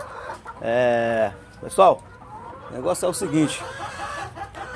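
Chickens from a backyard laying flock cluck and call in short bursts close by, with one drawn-out crowing cry near the start, all under someone talking.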